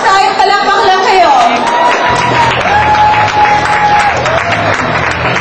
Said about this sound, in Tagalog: Kung gusto niyo pa manalunan si Optimus Prime, palakpak lang kayo